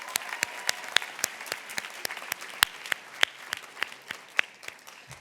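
An audience at a 2024 graduation recognition ceremony for dual enrollment students applauds, with sharp separate hand claps in an uneven patter that carries on steadily for several seconds.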